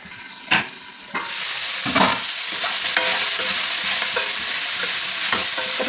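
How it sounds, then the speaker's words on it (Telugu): Cauliflower pieces dropped into hot oil, with a sharp burst of sizzle that settles into a steady loud crackling fry and occasional spoon scrapes, with no voices. "కాలీఫ్లవర్ ముక్కలు వేసుకోవాలి. ఒక నిమిషం పాటు నూనెలో వేగనివ్వాలి."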